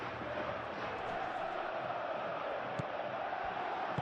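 A stadium crowd in a PES 21 football simulation of Atletico Madrid against Barcelona, rising as a steady roar of cheering and shouting with a commentator speaking over it.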